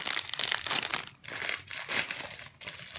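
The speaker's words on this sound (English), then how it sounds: "remove from wrap, wrap in a paper towel, and heat on high for 1 minute" Paper towel crinkles and rustles in several bursts up close as it is folded and pressed around something, with brief pauses between.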